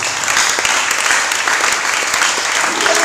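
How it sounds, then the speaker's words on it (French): A church congregation applauds steadily, a dense wash of many hands clapping together that holds at an even, loud level throughout. "Acclamons pour la gloire de Jésus"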